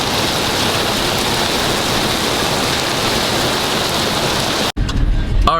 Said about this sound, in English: I got to the shop and it was pouring rain